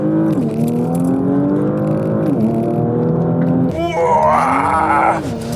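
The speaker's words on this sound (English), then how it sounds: "Left foot hard on the brake, floor it with the right one. And off we go!" A 2020 Porsche Macan GTS launches hard in Sport Plus, its 380-horsepower engine droning loud and close, climbing in pitch through quick gear changes as it accelerates.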